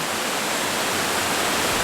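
A waterfall at Top of the Rock in Branson, Missouri, gives off a steady, even rush of white water that is loud and close, with no voices over it.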